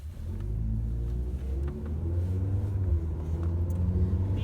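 A 2011 Mercury Milan, fitted with a Mazda-developed motor and transmission, pulls away with a steady, loud low engine rumble and road noise that builds slightly as it accelerates, heard from inside the car.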